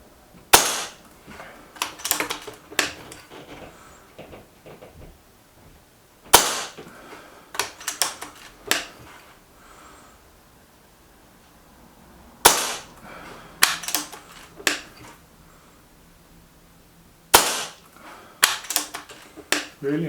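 Milbro Supergrade XS58 slingshot firing five shots at a centre target, heard as groups of sharp cracks and snapping impacts repeating at intervals of roughly five seconds, close and fairly loud with quieter gaps between volleys.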